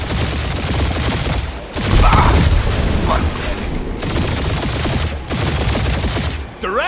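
Dense gunfire and booming explosions in the video game Guardians of the Galaxy, loud continuous volleys with a few brief pauses, mixed with voices shouting in the game.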